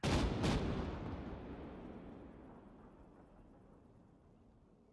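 A rifle volley fired on command at a gaming regiment's Memorial Day ceremony: two sharp close cracks in quick succession, then a long rolling echo that fades away slowly.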